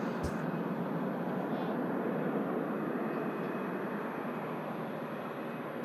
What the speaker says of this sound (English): Mega departure there of the KLM heading back to Amsterdam Schiphol